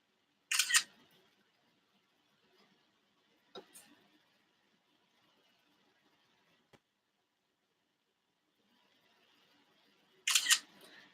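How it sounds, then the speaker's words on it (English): A phone camera taking a selfie, with a sharp shutter-like snap at the start, a softer click around four seconds and another loud snap near the end, separated by near silence. "Y'all just saw me take a selfie."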